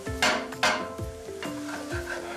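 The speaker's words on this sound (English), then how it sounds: "heat the oil and the butter in the frying pan and add in the onion and the celery" Onion and celery cook in a frying pan with heated oil and butter, a soft sizzle broken by several knocking strokes as a utensil stirs and scrapes the pan, with no voices.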